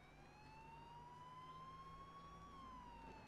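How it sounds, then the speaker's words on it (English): A police car siren in the H1Z1 battle royale game wails in a steady, loud tone that rises gently and then falls, holding throughout over a low engine hum. "Gonna turn the sirens off."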